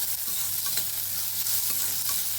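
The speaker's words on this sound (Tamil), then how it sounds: "வெங்காயம் வதக்கிக்கலாம்" Finely chopped onion frying in hot oil in a pan, giving a steady, close hiss of sizzling with a few faint crackles and no voices.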